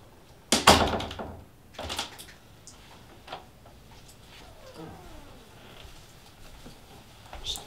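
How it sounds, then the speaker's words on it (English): An office door swings shut with a single sharp thud near the start, followed by quieter shuffling and room noise with faint talk in the background. "I'll close the door."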